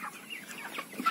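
Broiler chickens clucking inside a poultry coop, a steady dense flock murmur of overlapping clucks with no talking.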